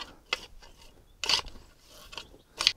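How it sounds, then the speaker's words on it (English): Garden hose reeled back onto a reel in a vegetable garden, a few short bursts of ratcheting, clicking mechanism noise up close, separated by quiet gaps. "I'll just reel the hose back"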